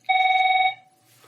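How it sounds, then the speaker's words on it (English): A telephone rings once, a steady electronic tone held for just over half a second at close range, then stops, leaving near silence and no voices. "I'll wait till it quits ringing."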